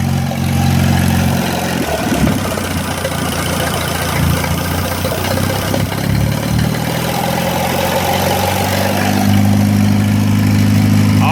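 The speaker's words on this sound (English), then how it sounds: "I'm going to idle it up just a little bit." A 1937 Willys flathead engine, revived after decades sitting in the woods, idles up while driving a generator, a steady loud low rumble with a slight rise in pitch, running continuously without talk.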